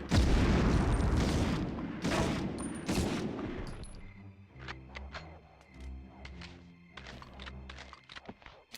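Grenade blasts in the 1999 video game Medal of Honor: several loud, booming thuds in quick succession over the first four seconds, followed by scattered softer impacts, clanks and a quieter game soundscape.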